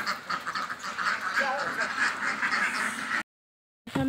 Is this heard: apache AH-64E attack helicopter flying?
no